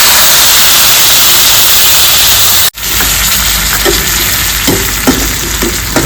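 Onion paste is added to hot oil in a pan, starting as a steady loud sizzle, briefly cutting out, then continuing as a crackling fry with a few spoon clinks, no talking.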